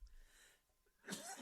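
A single sharp sneeze bursts out near the end after a quiet stretch, close and loud, with a short breathy tail.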